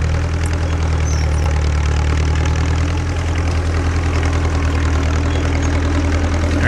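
An antique Caterpillar D2 bulldozer engine idles steadily and close by, a loud low throbbing rumble with a faint knocking pulse running unbroken throughout.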